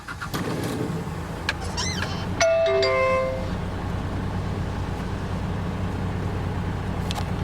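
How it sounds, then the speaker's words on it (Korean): A car engine cranks and catches during a driving test course, then settles into a steady idle rumble, heard up close with a few faint chimes and clicks around it. "5초 내에 엔진 시동을 거세요."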